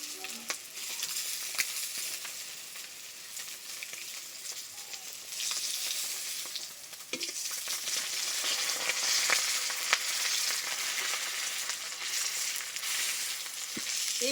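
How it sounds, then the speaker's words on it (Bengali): Pieces of fish fry in plenty of oil under a covering bowl, giving a loud continuous sizzle with scattered pops and crackles that swells slightly partway through. "গামলি চাপা দিয়ে দিয়ে মাছগুলো ভেজে নিয়েছি"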